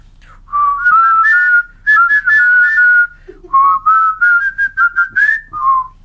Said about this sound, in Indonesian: konten dengan siul-siul begini